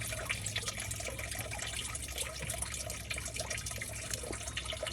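Coolant drains from the engine of a Ford F250 with the 6.0 engine during a coolant change, a steady, soft trickle of liquid that runs continuously with no voices.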